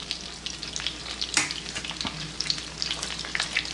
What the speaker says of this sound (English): Basically sauteing those bananas